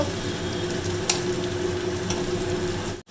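Onion and nigella seeds frying in oil in a wok, a steady close sizzle with a couple of brief stirring clicks, ending in a short break.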